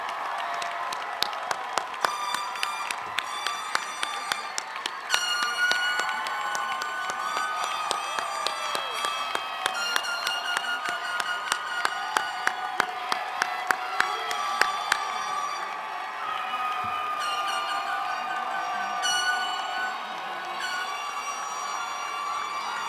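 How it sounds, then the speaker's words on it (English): A large crowd at a university commencement applauds the graduates steadily with scattered cheers and whistles, a sustained roar of clapping that carries on without pause. "Let's have one more round of applause for all of the graduates."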